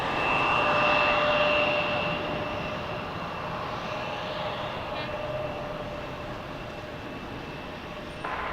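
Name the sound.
Delta Airbus A220 jet aircraft engine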